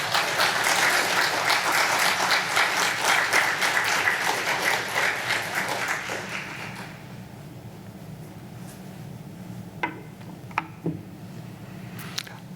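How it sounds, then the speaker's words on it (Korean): Church congregation at a Wednesday worship service breaks into loud, sustained applause to welcome a pastor, the clapping lasting about six seconds before fading to a hushed room with a few scattered claps. "큰 박수로 환영해 주시기 바랍니다"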